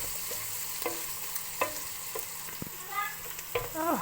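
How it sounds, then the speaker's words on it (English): Garlic powder frying with bacon in olive oil, a soft steady sizzle with periodic stirring scrapes and a few sharp pops and squeaky utensil sounds toward the end, fairly quiet, no talk. "fry the garlic powder with the bacon to enhance the flavor of the garlic"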